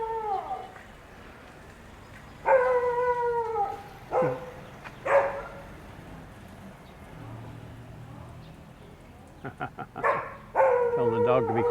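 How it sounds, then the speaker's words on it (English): Temple dogs beside a canal in Chiang Mai let out several drawn-out, wavering howls and whines in bursts over steady outdoor background noise, close by, with quieter gaps between the calls. "Tell the dog to be quiet."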